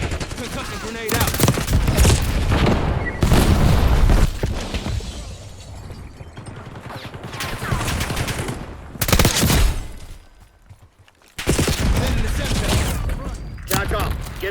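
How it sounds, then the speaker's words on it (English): Rapid bursts of gunfire crackle and rattle with a concussion grenade blast in a shooter video game, loud and close, coming in dense volleys separated by brief lulls, with voices now and then. "Concussion grenade out."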